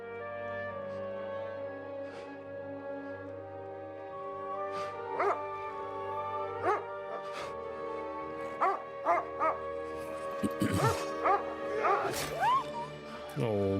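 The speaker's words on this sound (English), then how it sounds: "Oh, poor doggy." A dog in the Kingdom Come: Deliverance II video game whimpers and yips, with high plaintive cries growing more frequent toward the end over a steady musical drone, while someone talks alongside.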